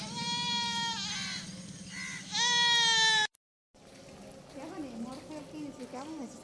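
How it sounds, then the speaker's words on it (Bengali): A goat bleats loudly and close by while being brought in to feed, giving a run of long wavering cries that stops abruptly, then after a short silence a person talks over faint background. "বোন ছাগলও খাওয়াতে নিয়ে আসছে"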